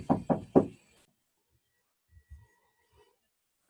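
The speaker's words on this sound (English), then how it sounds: "She's knocking again." Three quick, loud knocks on a door close by, followed by a few faint soft bumps and near silence, with no talking over them.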